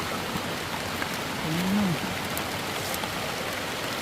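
Heavy rain falls steadily outdoors on a mountain, a dense even hiss through all four seconds with one brief low tone rising midway.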